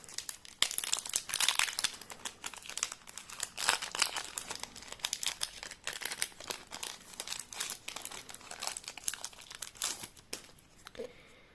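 Yu-Gi-Oh Duelist Nexus booster packs are torn open, their foil wrappers crinkling and rustling in quick close bursts over several seconds.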